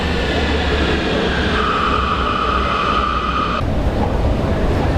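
A Munich U-Bahn subway train rumbles steadily at an underground platform, with a sustained whine that rises and then cuts off abruptly, and no voices.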